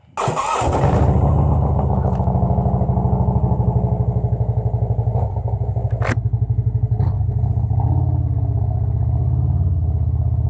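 A motorcycle engine catches after a brief start-up burst and settles into a loud, close, steady chugging rumble with a few faint clanks, and no one talks over it.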